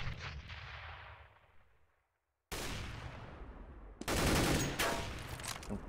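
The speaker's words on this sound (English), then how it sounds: "nice shot from Vieta here" Gunfire in a professional Counter-Strike: Global Offensive match, with a sharp sniper shot followed by a decaying tail, then bursts of rapid rifle fire, fairly faint overall.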